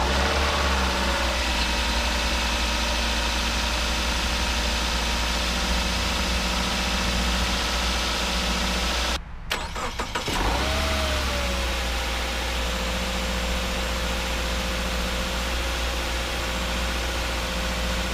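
A 2017 Peterbilt truck engine idles steadily for the whole stretch, a constant low mechanical hum and drone with a brief dropout partway through, no voices.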